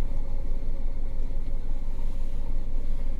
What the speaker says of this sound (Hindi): सामने से गाड़ी आ रही है